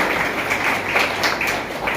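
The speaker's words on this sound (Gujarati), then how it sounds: "તો આપણે સૌ જોરદાર તાળીઓ સાથે" Audience applause welcoming a guest at a district pensioners' general meeting in Porbandar: steady, dense clapping from a crowd in a hall, continuous and fairly loud throughout.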